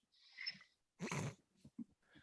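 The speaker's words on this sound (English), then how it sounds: "The dogs are getting like, you didn't feed me yet." Dogs at home waiting to be fed, making close whiny snorts, huffs and breathy vocal noises in uneven bursts with short pauses, fairly quiet and with no speech.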